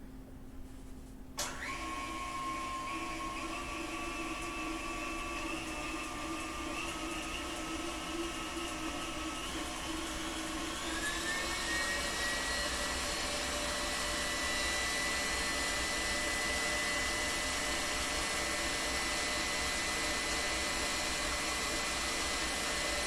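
An electric whisk or hand mixer beats egg whites, running as a steady loud motorized whir throughout, with its pitch climbing slightly partway through.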